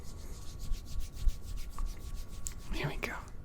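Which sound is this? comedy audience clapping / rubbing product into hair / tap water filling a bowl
rubbing product into hair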